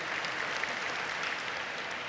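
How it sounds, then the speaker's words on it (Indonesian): An audience at a sermon in Mataram applauds, a dense, even wash of clapping that holds steady at moderate loudness throughout without any voice over it. "tidak usah tepuk tangan."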